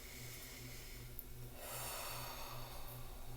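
During a seated yoga twist, slow deep breaths draw in and out close to the microphone, a long airy exhale swelling midway, over a faint low hum and no speech.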